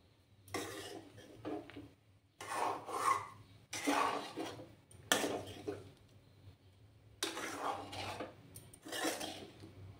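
Spatula scraping and stirring Bengali-style fried rice in a pan over a gas flame, coming in repeated rasping bursts separated by short pauses, close and moderately loud with a low hum underneath.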